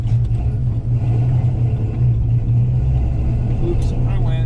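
A 1969 Dodge Coronet 500 with 373 gears and a four-speed manual cruising along, its low engine rumble steady and close throughout, with a voice talking over it.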